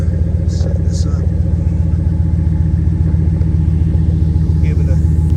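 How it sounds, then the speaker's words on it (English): A 2010 Dodge Ram 1500 SLT 4x4 pickup's engine runs close by, a steady loud low rumble that holds without rising, with a voice speaking briefly over it. "Give it a little bit of gas."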